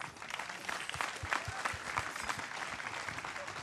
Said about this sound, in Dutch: En een applaus voor al deze mensen.